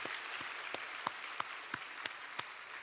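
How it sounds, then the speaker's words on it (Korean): Congregation at a special early-morning church prayer service clapping for the children, a faint, distant sequence of about eight evenly spaced claps with quiet room ambience between them. "우리 어린이들을 위해서 박수 한번 치겠습니다."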